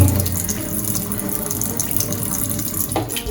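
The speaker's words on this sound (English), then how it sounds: "Wash your seasoning." Tap water runs steadily into a kitchen sink while seasoning vegetables for salt mackerel (onion, tomato, pepper) are rinsed, a continuous close gushing stream with shifting splashes.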